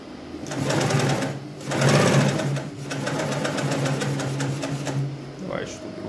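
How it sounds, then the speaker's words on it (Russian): A Durkopp Adler 867 industrial twin-needle sewing machine, needles 12 mm apart, stitching in loud, close, rapid mechanical bursts with a steady motor drone, pausing briefly between runs; someone speaks over it. "Дюркоп 867, двухигольная, 12 между иглами. Пробуем шить."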